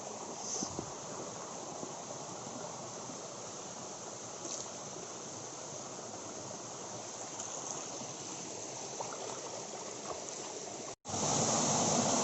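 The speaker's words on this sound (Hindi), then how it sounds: "Here is the waterfall of Burla." Continuous broad rush of the Burla waterfall, steady and fairly distant, with no voices, ending in a brief cut and a louder burst.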